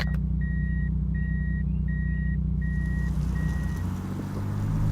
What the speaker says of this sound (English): When you put the car into reverse, the automatic makes this noise.